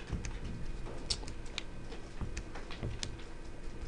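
Numbers tapped into a computer keyboard, a quick irregular run of light clicky keystrokes, close and fairly quiet with no talking.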